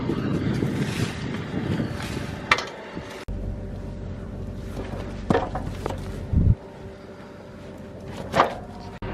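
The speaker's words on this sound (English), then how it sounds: "we've got a slightly smaller frame tractor with narrower tracks in front of this 2730 Ripper" Tractor on narrow tracks pulls a 2730 Ripper through wet, slimy soybean ground, a steady loud engine drone and rumble with wind buffeting the microphone and a few clunks and bumps.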